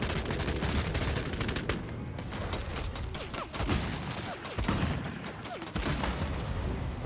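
Gunfire in the video game Bloodhunt, fairly quiet, with rapid clusters of sharp shots and bursts scattered irregularly across a few seconds.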